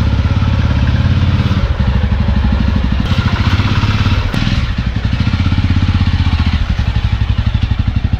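A motorcycle engine runs steadily and close for a Kolkata-to-Digha bike trip, a loud, continuous rhythmic putter with a brief thump and slight rev change midway, and no voices.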